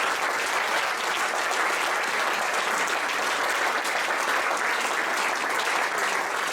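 An audience applauds three new players of a professional women's team at its official season presentation, producing steady, dense clapping that holds at an even level throughout.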